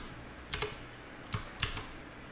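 JavaScript code being typed on a computer keyboard, ending with a press of Enter: a few sharp, close key clicks in small clusters against a quiet room.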